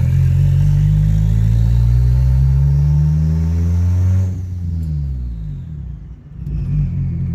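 Boosted Honda Civic EG accelerating hard around the block, a loud rumbling engine climbing in pitch, then easing off into a lower idle-like drone, heard close from the car.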